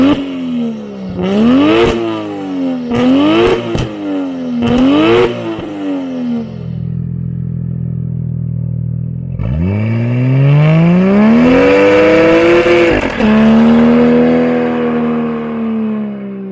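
A 300 bhp Toyota Soarer revving hard through several rising and falling engine sweeps, then settling into a low steady drone before pulling away with a loud climbing roar, close and continuous.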